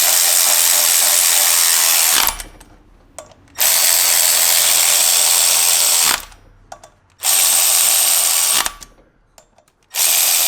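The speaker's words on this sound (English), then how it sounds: "Now we tighten all the bolts down." Clutch bolts on a Nissan 350Z being driven tight with a ratchet or power tool: three loud, close bursts of rapid mechanical whirring, each followed by a short quiet pause.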